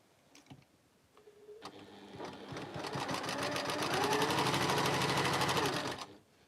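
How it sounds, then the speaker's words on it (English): A sewing machine stitches pieced quilt fabric, starting with a few clicks, then running in a loud, steady, rapid whir for several seconds before stopping, close and alone. "So now all I do now is I sew these along as I go."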